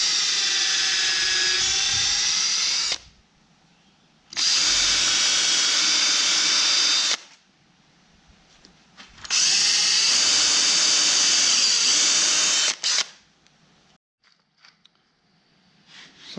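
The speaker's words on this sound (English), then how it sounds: "I'm going to drill and push down as hard as I can so that it'll go through a couple pieces of wood." Power drill boring through several stacked pieces of wood for a DIY bed frame: three loud, steady high-pitched whirring bursts of about three seconds each, separated by near-silent pauses, close to the microphone.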